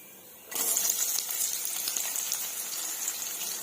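Chopped onions hit hot oil with mustard seeds and cumin, starting a sudden loud sizzle that settles into a steady crackling fry, alone and close.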